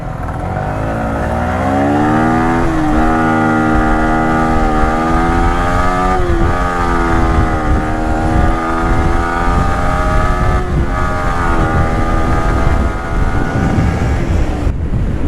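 Two Yamaha R15 V3 motorcycles racing, one engine screaming close and loud through rising and falling revs and gear shifts, with heavy wind buffeting the microphone throughout.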